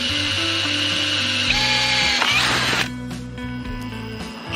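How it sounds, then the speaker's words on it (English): Power drill boring holes in a model railway layout, a loud whining motor that shifts pitch as it bites into the material, then winds down to a lower hum near the end. "get your drill and drill away."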